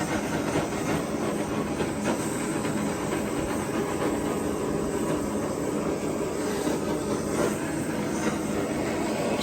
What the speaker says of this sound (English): Make sure you move the flame around a lot so you don't burn one area